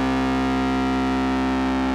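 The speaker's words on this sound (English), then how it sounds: "I find that the overdrive side is very useful on bass." A sustained, buzzing bass guitar note through a Rocktron Silver Dragon overdrive pedal, gritty distortion held steady and loud for the whole stretch, no voices.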